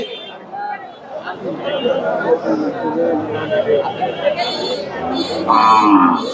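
A Jersey and local cross cow moos at a busy cattle market, the lowing rising out of constant crowd chatter while someone talks nearby.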